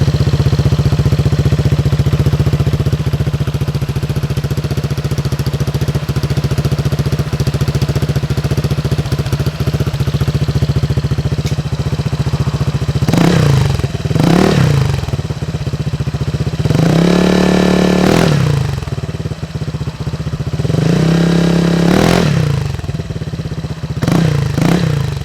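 A Honda ADV 150 scooter fitted with a Yoshimura exhaust idles steadily on a dyno, then revs up sharply in three separate bursts, each rising and falling back to idle, loud and close with no talking.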